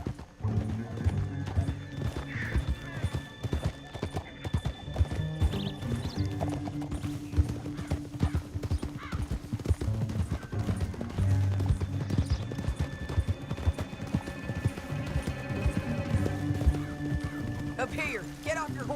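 Horses in Red Dead Redemption 2 clip-clop steadily at a gallop through a canyon, hooves drumming close and continuous, with an occasional whinny, music-like tones and character voices talking over them throughout.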